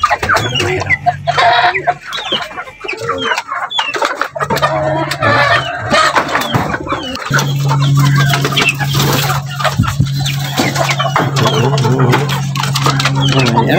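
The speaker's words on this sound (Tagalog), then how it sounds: "At meron ho tayong hiraw na tandang" Hiraw rooster and hens of Rhode Island Red, Black Australorp and Texas breeds in a backyard flock, clucking repeatedly close by with a steady low hum beneath, while someone talks over them.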